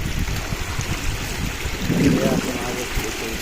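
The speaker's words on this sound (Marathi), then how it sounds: "दत्त महाराजांच्या मठाच्या कडेने पाणी कसं वाहत आहे." Rainwater runs along the side of a temple monastery after a downpour, a steady close rushing and trickling flow that swells briefly partway through, with a voice faintly present.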